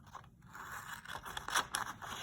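Scissors cut up paper lab materials at close range in a few short snips and scrapes, with no talking.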